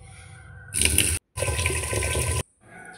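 Tap water gushes loudly into a kitchen vessel while rice is washed, in two close bursts split by a short pause, then drops to a quieter trickle.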